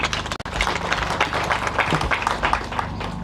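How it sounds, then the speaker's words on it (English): A university audience at Kirinyaga University, Kenya, claps together in a dense, steady burst of applause, continuing at an even level throughout. "Can we clap"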